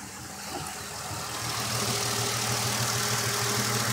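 A dual-exhaust car engine idles steadily outdoors with a low, rumbling hum and faint regular pulsing, holding fairly loud and constant throughout, with no talking.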